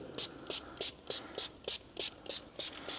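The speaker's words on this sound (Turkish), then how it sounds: "Şu şekilde sıkıyoruz motorun her tarafına." Anti-scratch polish spray hissing onto a motorcycle, an RKS Reale 125, in about ten short, evenly spaced bursts, close and fairly quiet.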